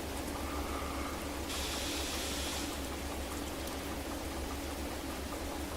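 Steady rain falling in the Derail Valley train simulation game, a dense, continuous hiss with low rumble throughout, with no talk.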